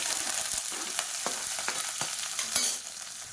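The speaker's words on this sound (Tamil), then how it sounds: "மீடியம் சைஸாக ஒரு பெரிய வெங்காயம் கட் பண்ணதை சேர்த்துக்கலாம்." Chopped large onion hitting hot oil with curry leaves and whole spices for a pepper chicken gravy, giving a steady close sizzle with occasional sharp crackles and stirring scrapes throughout.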